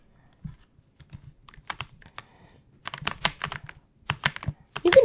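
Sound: computer keyboard keys typing

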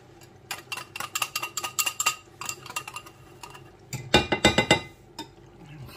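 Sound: stirring cornstarch into water in a bowl

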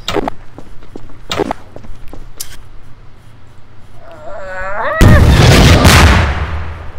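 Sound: nuke explosion in the video game Garry's Mod

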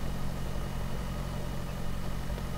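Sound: tractor engine driving in Pure Farming video game

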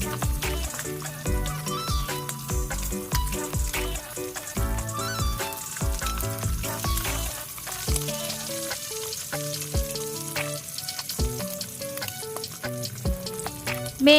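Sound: pork belly frying in oil until crispy

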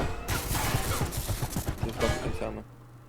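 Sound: turret gunfire in video game Level Zero: Extraction

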